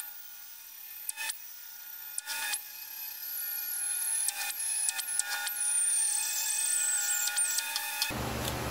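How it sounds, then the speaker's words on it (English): A handheld rotary tool with a carbide burr smooths a ridge on a steel tractor grader blade, a high, steady whine that wavers in pitch as the burr bites. It is broken by short scraping bursts and cuts to a harsher grinding noise at the end. "There was a thin ridge where the two cuts met, so I smoothed it out with a carbide burr."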